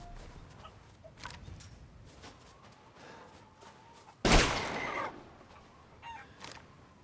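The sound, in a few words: chickens clucking in a video game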